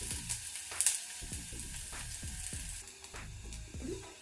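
Curry leaves frying in hot oil with garlic chilli masala for corn, a faint crackling sizzle broken by a rhythmic run of sharp spatula taps and scrapes against the pan, no speech.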